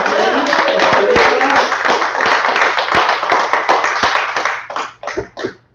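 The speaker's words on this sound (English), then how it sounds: "How about another round of applause?" An evening theatre audience applauds a new performance piece with loud, dense clapping that holds for several seconds, then thins out to a few scattered final claps.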